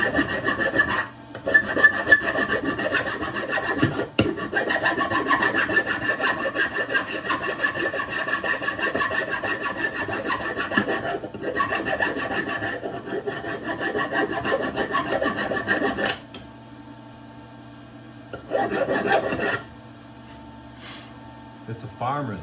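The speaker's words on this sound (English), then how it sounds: "Do I want to use a file? Maybe a file, huh?" A metal file rasps steadily across a rough farmer's weld in long continuous strokes, close up, stopping briefly a few times before resuming, with some breathing in the background.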